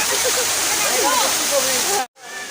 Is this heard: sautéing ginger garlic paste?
no